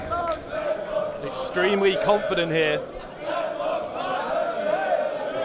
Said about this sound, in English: The crowd chanting, Bad Bones going to kill you.